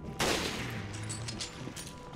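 Rifle gunfire in Resident Evil Revelations: one sharp, loud shot rings out and decays into a ringing tail, followed by a few fainter bursts.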